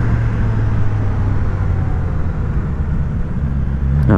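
A Suzuki GSX-S 1000 motorcycle riding along, with a steady low engine drone and wind rumble that stays loud and constant throughout, no voices.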